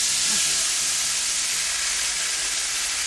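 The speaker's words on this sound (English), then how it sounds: "I'm going to anoint it with some bubbled down brandy, about 4 tablespoons, and I deglaze the bacon fat" Brandy bubbling and sizzling hard in a pan as it deglazes rendered bacon fat, a loud, continuous steamy hiss close up throughout.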